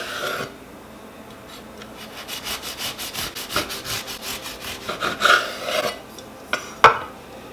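A knife saws through a freshly baked homemade stromboli on a cutting board, giving a steady run of close, dry rasping strokes that grow louder and choppier toward the end, with a couple of sharp scrapes against the board.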